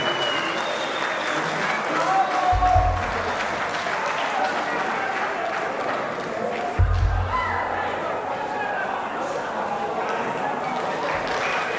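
Audience applause at an Armenian wedding celebration: a dense, steady wash of many hands clapping that fills the whole stretch, with a couple of brief low thumps breaking through partway.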